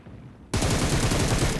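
Burst of rapid automatic gunfire in the mobile battle royale game PUBG Mobile, erupting suddenly after a quiet moment and continuing loud and dense to the end.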